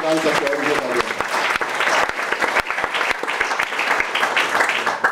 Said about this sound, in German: nochmal Applaus für den Gastgeber